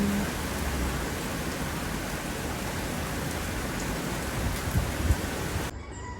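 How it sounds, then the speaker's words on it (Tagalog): Steady rain falls continuously as a dense, even hiss, with a few heavier drops and thumps near the end before it cuts off. "ang pinaka gusto ko yung patak ng ulan"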